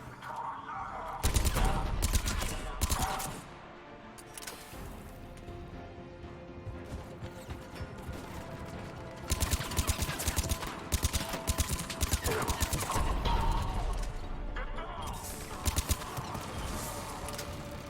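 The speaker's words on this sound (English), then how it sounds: "The cannon fire is clearing the way." Cannon fire and heavy weapons in the Mass Effect 3 sci-fi shooter, a dense, loud barrage of booming blasts and rapid gunfire in repeated bursts across the battle.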